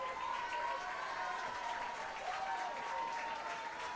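A crowd at a Texas high school baseball game claps and cheers steadily for several seconds, moderately distant, with a faint sustained whistle or tone running through it.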